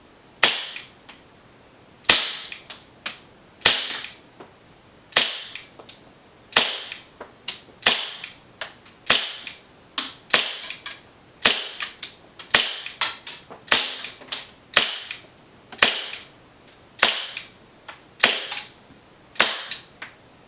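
Elite Force 1911A1 Tac CO2 blowback airsoft pistol firing, a long series of sharp, crisp cracks with the snap of the slide cycling, spaced irregularly with occasional quick doubles, close and loud.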